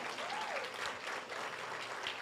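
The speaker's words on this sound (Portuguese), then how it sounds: "Quantos querem aplaudir a Deus" Church congregation applauding in thanks to God, a soft, distant-sounding patter of many hands with faint crowd murmur and a brief voice over it.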